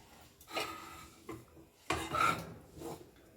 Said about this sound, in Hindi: 2 से 3 मिनट तक ये आटा भूनना।